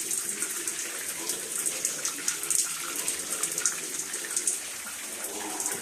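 Water spraying hard from a leaking pipe joint in a house's plumbing, a steady broadband hiss and splatter that holds loud and continuous throughout.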